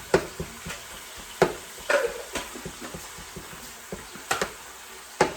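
Shaved steak browns in a pan with a quiet steady sizzle, broken by sharp irregular clacks and scrapes of a utensil stirring the meat.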